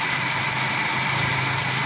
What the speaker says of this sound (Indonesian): Nih, stasionernya sangat kecil.